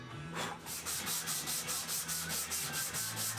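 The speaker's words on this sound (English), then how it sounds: "I did some sanding to clean up those cuts" Sanding the cut edges of a wooden jewellery box lid, a rhythmic back-and-forth rasp of about a dozen even strokes, close and steady with no talking.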